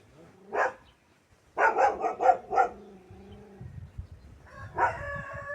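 Dogs bark at a Ukrainian farmstead: one single bark, then a quick burst of four loud barks, a pause, and another bark, all close and clear, with no one talking.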